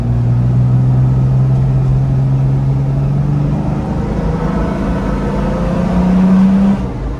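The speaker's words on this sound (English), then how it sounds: "So you can hear the intake over the exhaust now" A Jeep Wrangler JK with a newly fitted exhaust idles and holds a steady, loud, close engine drone with a rising rev near the end, its intake audible over the exhaust, with no talking.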